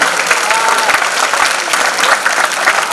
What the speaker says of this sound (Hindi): तालियों से मुझे बता दें